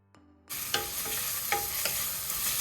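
Large onions hit hot coconut oil in a pressure cooker for Kerala-style chicken curry, bursting into a loud, steady sizzle after a brief quiet start, with a few sharp scrapes of stirring over the frying.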